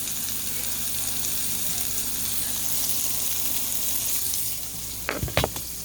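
Mushrooms for cheeseburgers fry in a pan with a loud, even sizzle throughout, then a few quick clattering knocks close by near the end.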